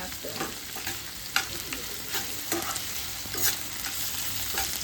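Ingredients for chow mein noodles roasting in a pan, a fairly quiet continuous sizzle with scattered soft stirring clinks and scrapes.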